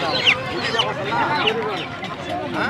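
Native chickens cluck and squawk in quick, overlapping bursts at the busy Lalbagh haat poultry market in Rangpur, with ducks nearby and a low murmur of people around the birds.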